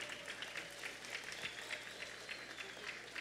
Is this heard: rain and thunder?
no